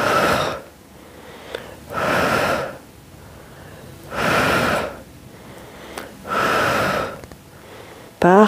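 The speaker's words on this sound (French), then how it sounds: "Inspire et expire." Four slow, deep breaths during a muscle-strengthening exercise session, each a long audible inhale or exhale close to the mic, evenly spaced with short quiet pauses between.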